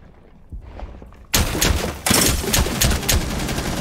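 Shotgun blasts in a multiplayer shooter game, several loud, sharp bursts in quick succession after a quieter opening with faint background noise.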